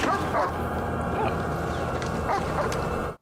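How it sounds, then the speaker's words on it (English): A dog barks and yips a few times in a tense scene from a crime drama, short sharp calls mixed under a dense background. "Shut that dog!"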